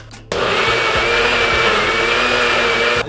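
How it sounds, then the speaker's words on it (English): A countertop blender whirs steadily through a taco marinade for carne asada, starting abruptly and running as a loud, continuous close-up drone for almost three seconds. "Get your blender front and center. Give it a little shake. And simply blend."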